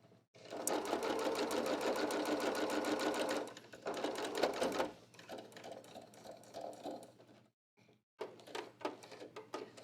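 A sewing machine stitches a fabric pocket in close, fast runs, with a long burst, a shorter one, then brief stop-start stitching and pauses.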